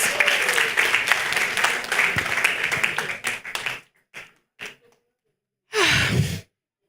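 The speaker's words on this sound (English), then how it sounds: "Another round of applause for ourselves." An audience at a dialogue event breaks into loud, dense clapping, which thins into a few scattered claps and then stops, followed by a short burst of crowd noise.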